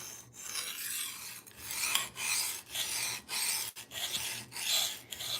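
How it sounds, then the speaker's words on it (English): Steel knife blade rasping across a coarse 120 grit diamond stone in repeated back-and-forth strokes, a steady rhythmic scraping with brief pauses between passes, close and fairly loud with no talking. "with the 120 grit diamond stone, this creates a burr very fast."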